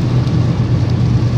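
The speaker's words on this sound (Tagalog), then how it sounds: "Pero ngayon, oh, lakas ng ulan." Heavy rain pours down in the countryside around banana plants, a loud, close, steady roar of rushing water with deep low rumble throughout, no voices.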